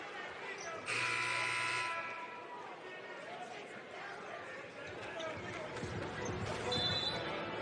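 Shot clock buzzer in an arena at an NCAA men's basketball game, Auburn vs Georgia: a loud, sustained one-second buzz near the start, over steady crowd noise and commentary.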